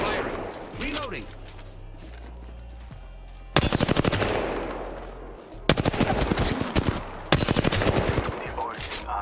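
Rifle gunfire in the Apex Legends battle royale game, with three loud bursts of rapid automatic shots at close range separated by quieter stretches of in-game ambience and movement.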